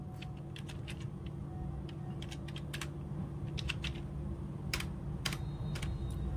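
Typing on a computer keyboard as a customer name is entered, with irregular clusters of light, crisp keystrokes over a steady low hum and no talking.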